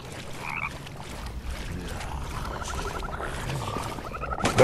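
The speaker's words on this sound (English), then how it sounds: "I just got poisoned by giant toads." Giant toads croaking in the Mortal Shell video game, a loud run of low, throaty croaks and rattling calls close by, overlapping with game ambience.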